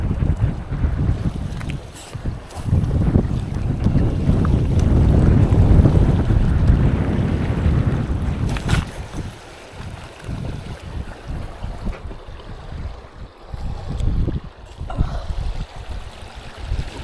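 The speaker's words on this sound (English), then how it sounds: "Fucking windy as." Strong wind buffets the microphone at French Bay on the West Auckland seashore, a loud continuous roar that swells and gusts throughout, with rumbling bursts and no talk.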